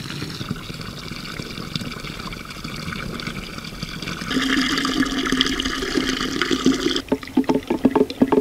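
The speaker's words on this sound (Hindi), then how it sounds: "अभी पानी डालो।" Water is poured into a clay pot to make a neem mixture, a steady pouring stream that grows louder partway through, then turns into choppy gurgling splashes toward the end.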